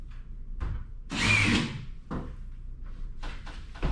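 A power drill fitted with an auger bit bores a hole in short bursts, several whirring spurts with one longer, louder run in the middle, heard up close with pauses between.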